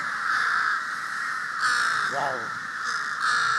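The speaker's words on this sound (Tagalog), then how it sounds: "Nakatakot ang uwak. Ando dun sa mga puno." Crows caw repeatedly from trees, harsh calls coming in several bursts over a continuous noisy background, with a person briefly exclaiming once.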